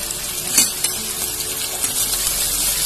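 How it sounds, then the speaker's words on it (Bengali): Chopped chili and onion paste sizzle steadily in a hot pan for a veg burger paratha, with a few sharp scrapes and clinks of a spoon stirring the mixture, and no talking. "একটু নাড়াচাড়া করে দিচ্ছি।"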